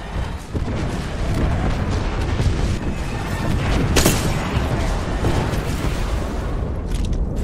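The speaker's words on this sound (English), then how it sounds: "We've got an airstrike coming in." Heavy booming blasts from an airstrike in the battle-royale shooter Apex Legends, a dense continuous barrage of loud explosions with one sharper crack near the middle, no talk.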